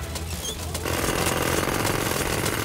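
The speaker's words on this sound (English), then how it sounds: "Jackhammer!" A loud, rapid jackhammer pounding in a children's cartoon starts after a brief moment and keeps hammering steadily to the end.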